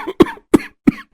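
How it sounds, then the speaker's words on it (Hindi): Three sharp, close coughs in quick succession from a cartoon character, each a short harsh burst with brief pauses between. "लग रहा है मेरी खांसी फिर से शुरू हो गई है"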